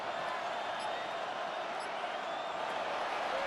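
Stadium crowd in Madden 26 during a Bears versus Falcons game, a steady, dense roar of cheering that holds level throughout without a break.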